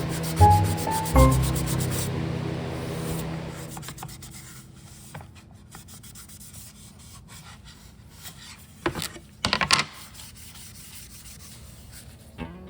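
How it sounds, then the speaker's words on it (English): A palm sander smooths a wooden serving tray with epoxy details up to 220 grit, starting with a brief motor hum, then soft steady rubbing and a few louder scrapes near the end, close up with no talking. "I spent a little more time with the palm sander, getting it up to 220"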